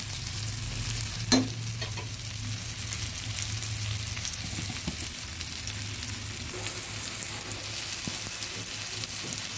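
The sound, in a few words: bitter gourd (karela) frying in a wok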